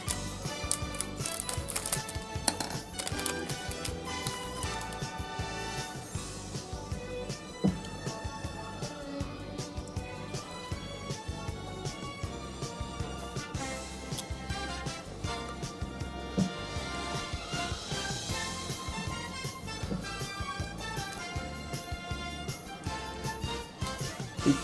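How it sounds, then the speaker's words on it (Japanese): A pack of BBM Infinity 2019 sports trading cards being opened up close, with a steady, busy run of crinkling, tapping and clicking from the wrapper and cards for about 25 seconds, no talk. "続けて3袋目開封していきたいと思います。"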